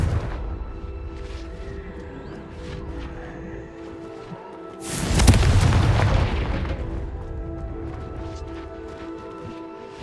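A Confringo blasting spell in Hogwarts Legacy bursts in one loud, sharp explosion midway, its deep rumble swelling and slowly fading over a quiet ambient game background.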